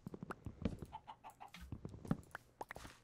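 Minecraft chickens cluck in short, scattered bursts, several birds close by, with irregular soft clucks overlapping across a quiet game background.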